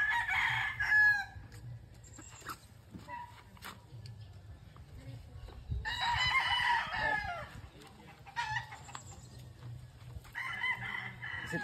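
Pet chickens cluck and crow at a backyard nest, with a rooster's loud crows in bursts and a dog barking now and then, while a person talks in the background.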